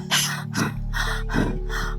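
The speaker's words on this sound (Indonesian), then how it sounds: "Napasku tersengal." A series of sharp, breathy gasps of someone out of breath from running, about five in quick succession, close and loud, with a low steady hum underneath.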